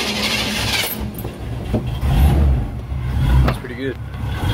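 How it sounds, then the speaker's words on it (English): A truck engine at a landscaping business cranking and settling into a running rumble close by, with a brief spoken comment over it. "I'll walk y'all around to show you an engine. I'll let y'all hear it crank up real quick."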